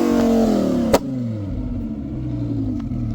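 Lamborghini Huracan with gutted catalytic converters and a flame tune revving, a loud engine drone whose pitch falls after a sharp pop-like crack near the one-second mark, then settles into a steady lower rumble.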